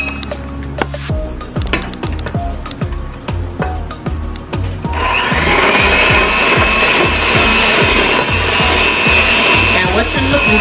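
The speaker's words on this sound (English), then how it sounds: "we're just gonna mix this together" An electric hand mixer beats butter cake dough into a soft dough, first with rhythmic thumping strokes against the bowl, then a loud continuous whirring motor drone close by.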